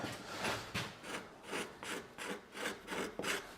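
A carving tool cuts across the grain of wood while shaping a carved fan, making a close series of rhythmic rasping strokes, about seven in quick succession.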